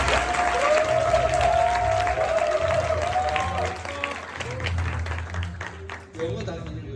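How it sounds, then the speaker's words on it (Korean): A crowd applauds at a school graduation ceremony, with dense clapping and some cheering over a sustained tone and low hum, the clapping thinning toward the end. "크게 박수로 축하해 주시겠습니다."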